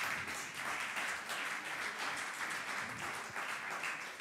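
Applause from the audience at a thesis-presentation contest rolls on at an even level throughout, sounding somewhat distant and muted.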